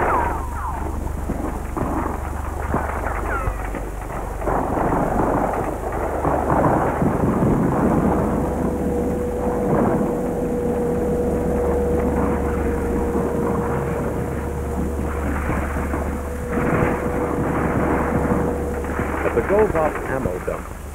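Heavy army artillery and gunfire bombardment recorded on archive film in Saigon in 1968: a continuous dense rumble with rolling booms and crackle, loud throughout.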